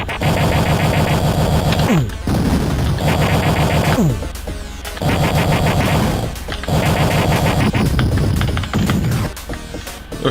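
Rapid bursts of game gunfire blast away at turrets in Duke Nukem II, loud repeating shots in long volleys separated by brief pauses, with electronic music running underneath.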